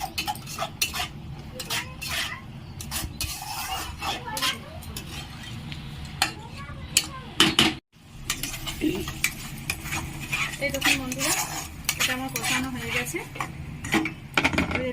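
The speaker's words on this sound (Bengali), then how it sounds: "এটা আমি বেশ কিছুক্ষণ ভালোভাবে কষিয়ে নেবো" Kashmiri aloo dum masala stir-fried in a pan, with a spoon clinking and scraping in steady repeated strokes, close and fairly loud, broken by a brief pause midway as a voice speaks over part of it.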